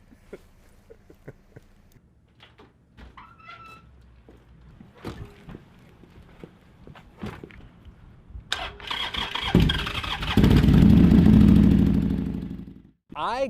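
A motorcycle engine starts up close by after some handling clicks and rattles, then revs and roars loudly as the bike pulls away. The engine note rises, then drops off at the end.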